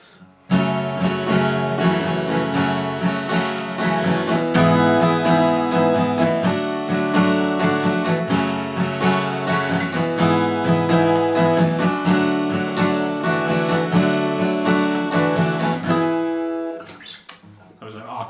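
An acoustic-style guitar plays the pre-chorus interlude of a song continuously with strummed chords and a busy, steady rhythm for about sixteen seconds, then stops abruptly.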